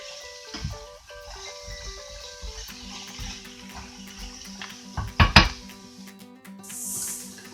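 Celery and carrots are stirred in a pan for a classic British cottage pie, with a utensil clinking and scraping against the metal, a cluster of louder knocks partway through and a faint sizzle underneath.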